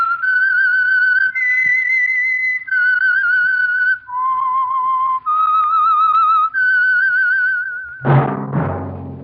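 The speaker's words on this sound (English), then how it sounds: "That whistle is your signal for the Signal Oil program, The Whistler." A whistled theme melody used as the signal for The Whistler, a Signal Oil radio drama program, sounding as a clear, loud, wavering sequence of sustained notes that steps between pitches, followed at the end by a brief burst of orchestral music.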